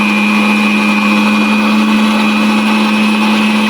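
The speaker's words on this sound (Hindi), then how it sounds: "चलिए आइए मिक्सी में इसको बनाते हैं।" Mixer grinder blending watermelon for juice, a loud steady motor whine with a constant pitch running the whole time alone, then cutting off abruptly at the end.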